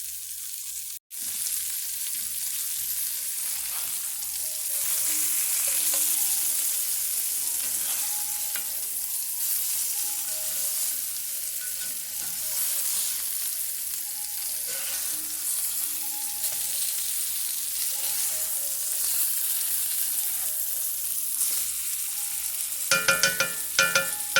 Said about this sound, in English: And we are going to just get these browned on both sides.